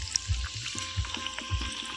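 Food frying in a pan, a quiet steady sizzle with soft regular low thumps about every two-thirds of a second, like stirring or turning pieces.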